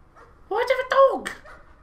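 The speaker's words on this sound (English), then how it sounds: "Why do I have a dog?" A dog in the horror video game Layers of Fear gives a short yelping bark followed by a whimpering whine, close and distinct against a quiet background.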